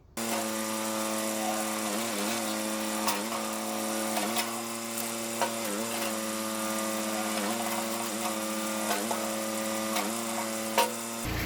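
A Kubota B7500 compact tractor with newly replaced hoses runs at a steady idle close by, its even engine drone holding for the whole stretch with small bumps in loudness and no talking.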